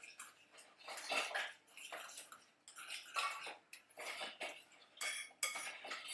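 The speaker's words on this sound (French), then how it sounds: "Voilà, on mélange bien." A utensil stirs chopped herbs and cucumber in a bowl, producing soft, irregular scraping and clinking strokes close by with brief pauses between them.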